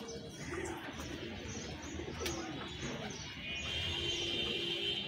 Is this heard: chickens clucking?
no